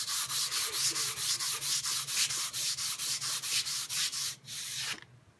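A coarse sharpening stone turned upside down and rubbed flat makes a loud, close, gritty scraping in a steady back-and-forth rhythm of about four strokes a second, stopping abruptly near the end.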